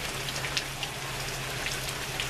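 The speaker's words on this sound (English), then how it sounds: "Now here comes the rain again." Steady rain pours down in a dense, even hiss, with scattered louder drops pattering on a nearby surface throughout; no voices.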